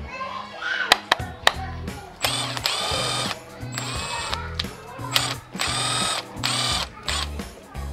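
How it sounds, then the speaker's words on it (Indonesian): Impact wrench on a Mitsubishi Lancer CK4 during a Mivec engine swap, firing in several loud bursts of rattling hammering separated by short pauses, with sharp clicks early on. "Saya mau coba pakai impactnya."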